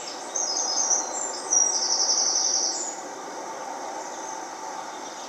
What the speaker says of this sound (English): it was muted by Birdsong